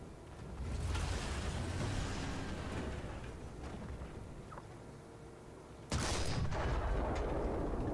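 Tank gunfire in a tank video game with a Marder III: a rumbling engine bed, then a sharp loud cannon blast near the end, with no speech.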